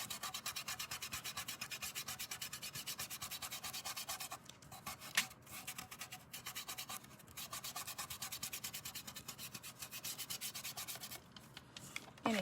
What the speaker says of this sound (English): go in with my finger and burnish that, like pushing the glitter into the adhesive